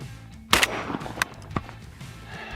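A Beretta A300 Ultima gas-operated shotgun fires a sharp, loud blast followed by a second quicker report, with clanking of the action and faint ringing echo between shots outdoors.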